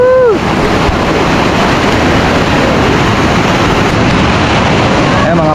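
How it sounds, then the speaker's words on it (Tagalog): Tinandayagan Falls, a continuous broadband roar of rushing water close to the microphone, steady and loud throughout, with wind buffeting and a faint tonal whistle at the start and end. "ito yung falls na tinatawag nila"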